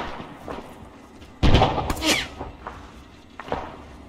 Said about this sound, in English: Now let's just shoot the infantry